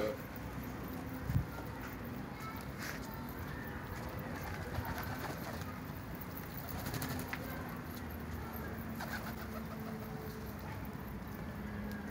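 Soft pigeon cooing sounds faintly through a steady wash of outdoor background noise, low and continuous with occasional faint calls.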